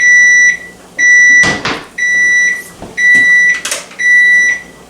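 A kitchen oven's control panel beeps four times in a steady rhythm, each tone held about half a second, close and loud, while cookware clatters between the beeps.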